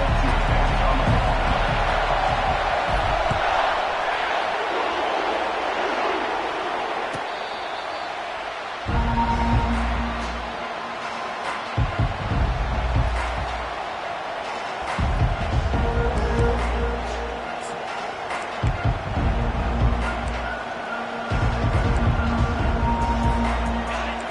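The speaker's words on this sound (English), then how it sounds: "They challenge this crowd to bring the energy, and I'd say they're doing that." A college football stadium crowd around a Georgia kickoff roars steadily, with loud surges of cheering and brief dips between them throughout.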